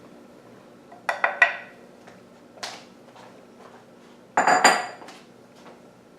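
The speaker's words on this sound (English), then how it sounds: "just going to stir these together good." Brownie batter being stirred, dry ingredients folded into wet in a bowl, gives scattered bursts of a spoon scraping and clinking against the bowl. Quieter gaps fall between the bursts, and one word is spoken.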